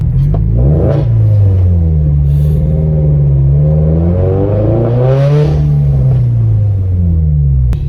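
A turbocharged Subaru BRZ with a Tomei 80R exhaust revs hard and rises in pitch, its raspy exhaust note dropping and surging again, loud and close throughout.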